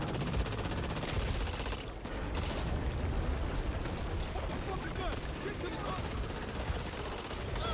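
Gunfire in the video game Back 4 Blood: dense, continuous bursts of shots and clattering mechanical noise, loud and chaotic, with a voice talking over it.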